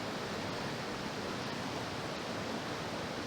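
The Salem River flows beside a campground by a one-lane bridge, a steady broadband rush of water that stays close and constant throughout, with no other sounds.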